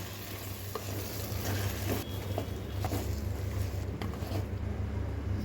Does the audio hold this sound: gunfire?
no